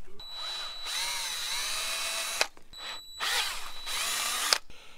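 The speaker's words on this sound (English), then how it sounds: "We're going to go do some drilling." A power drill whirs loudly in two long bursts, each lasting about two seconds with a short pause between, revving up and winding down, while fitting accessories to a Harley-Davidson motorcycle.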